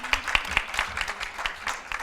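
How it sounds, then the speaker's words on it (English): An audience claps together at a Style Tatva press meet, a moderate, scattered round of applause with individual claps audible throughout. "Can we all have a round of applause for me?"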